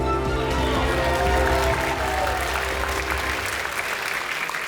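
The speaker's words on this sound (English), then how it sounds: "Big round of applause." Audience at a youth enterprise finals and awards night in Malta applauding an award presentation, a dense sustained wave of clapping that swells early and slowly tapers, loud and close throughout.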